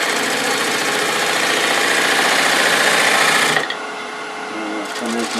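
A wood lathe spins a potpourri bowl blank while a gouge cuts it, giving a steady, loud, close whirring hum with a rasping edge. It drops sharply to a quieter running drone partway through.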